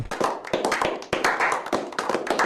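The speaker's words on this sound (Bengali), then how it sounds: "সুন্দর হয়েছে, সবাই হাততালি দাও।" Several people clapping their hands together in a fast, uneven burst of sharp claps, close and steady, with no talking.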